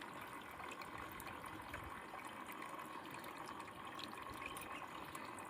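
Water flows steadily from a pipe in a farm field planted with wheat and guava trees, a continuous rushing stream heard up close, alone and at even loudness throughout.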